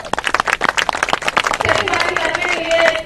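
A crowd at a public outreach meeting with the chief minister in Gumla bursts into applause, dense rapid clapping that builds and fills the room, with voices mixed in underneath.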